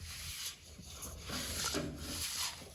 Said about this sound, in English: what I'm doing is waiting for that fish tape to come out here.